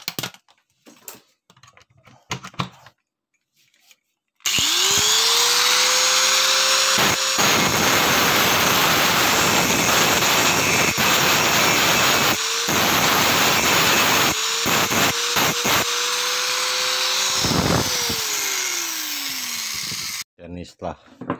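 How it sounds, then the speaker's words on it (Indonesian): An angle grinder cuts into part of a washing machine dryer motor during a repair. It whines loudly and continuously for about sixteen seconds, with the pitch rising as it spins up and falling as it winds down, between short pauses and tapping sounds. "Kita akan gerinda dulu."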